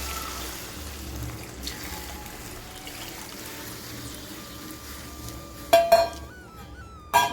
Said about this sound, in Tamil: இதில் வந்து நம்ம இந்த புளி தண்ணியை ஊற்றலாம்.